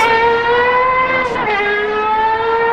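A Porsche Carrera GT pulls away under full throttle, its engine a loud, steady high-pitched wail with a brief shift-like dip midway before climbing again, close and alone.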